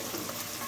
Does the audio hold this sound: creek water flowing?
no